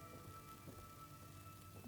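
Steady rain in the video game Fallout 4, a soft continuous hiss with low rumbling underneath, held at an even level throughout with no voices.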